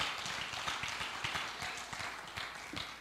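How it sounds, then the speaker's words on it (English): A church congregation claps along during an evening worship service, producing a fairly quiet, dense patter of many hands with no single clap standing out. "Would you clap your hands and thank God for that tonight?"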